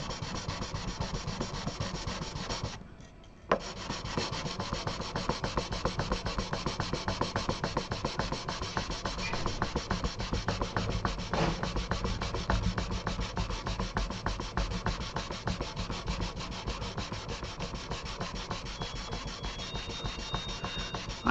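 Steady, continuous rasping of sanding a guitar nut for a Takamine guitar, constant back-and-forth friction with a brief pause near the start, close and fairly loud.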